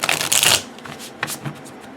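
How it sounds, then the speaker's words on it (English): A tarot deck is riffle shuffled up close, a loud burst of rapid papery flutter followed by softer taps and clicks as the cards settle, with no talking. "And now I'm going to shuffle up the Darkness of Light Tarot, which I have to say shuffles really nicely."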